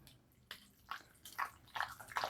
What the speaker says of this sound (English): Now I'm going to use the same spoon I used earlier to get the avocado out of the peeling. And just stir this up.